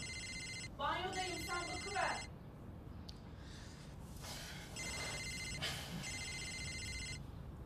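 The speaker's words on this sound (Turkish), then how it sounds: "telefonun çalıyor." A telephone rings in a family home with repeated electronic ringtone bursts, moderately loud, while people talk between and over the rings.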